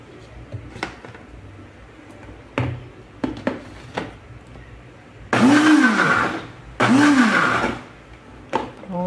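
A blender briefly mixing cookie filling into cake batter for a flourless, eggless, sugarless cake: two short pulses of loud whirring, each lasting about a second, with someone talking before and between them.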